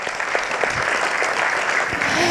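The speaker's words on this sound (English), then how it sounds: "So one round of applause to this August panel before we start the conversations" An audience at an HR conclave applauds a panel, a steady bright patter of many hands clapping together, fairly close and sustained without pause.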